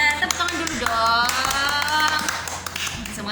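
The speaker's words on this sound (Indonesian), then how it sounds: "Tepuk tangan dulu dong." Kindergarten class hands clap in quick, uneven bursts, with young voices chanting and calling out over the claps.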